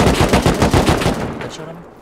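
Rapid automatic gunfire in the video game Rust, a dense burst of sharp cracking shots that fires loud and close for over a second and then trails off.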